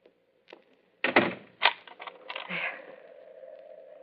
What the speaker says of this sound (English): Would you mind standing here until you hear me lock my door?